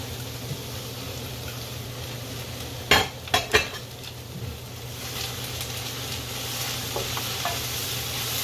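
Onions, carrots and green peppers fry in a pan with a steady low sizzle, while a utensil stirs and scrapes against the pan in a few quick clattering bursts.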